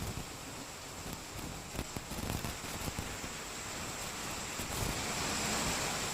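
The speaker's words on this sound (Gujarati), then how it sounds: "સાવરકુંડલાના ગ્રામ્ય વિસ્તારોમાં ધોધમાર વરસાદ પડ્યો" Heavy rain pours over rural countryside near Savarkundla in Amreli, Gujarat, making a dense, steady wash of hiss with slight gusty swells, heard from a distance and fairly faint.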